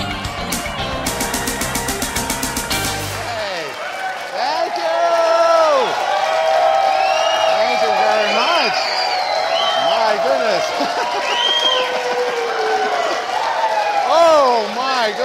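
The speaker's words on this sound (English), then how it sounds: "What an excitable crowd you are tonight, huh?" A late-night show studio audience in an auditorium cheers loudly with whoops and shouts and claps, sustained and close-mic'd, after a short opening musical fanfare.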